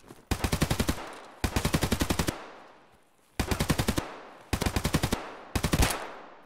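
Five bursts of rapid automatic gunfire ring out in Escape from Tarkov, each a loud, close string of shots lasting about a second, separated by short pauses.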